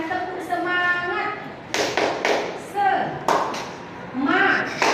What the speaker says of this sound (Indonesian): Ice breathingnya kita akan lakukan tepuk semangat